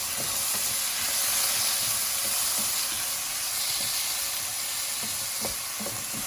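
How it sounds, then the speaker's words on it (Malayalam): Tomatoes and onions fry and get stirred into masala for a Kerala-style prawn biryani, giving a steady close sizzle with scattered soft scraping stir strokes and no talking. "ഇനി നമുക്കിതിലേക്ക് തക്കാളി ഇട്ട് കൊടുക്കാം. എന്നിട്ട് തക്കാളിയും സവാളയും എല്ലാം കൂടെ നമുക്കൊന്ന് മിക്സ് ചെയ്യാം."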